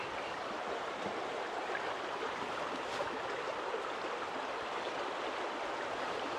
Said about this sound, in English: it's nice to just come and listen to the water